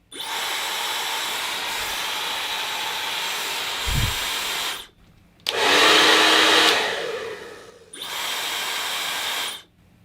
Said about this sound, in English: And here's the Dyson at full power.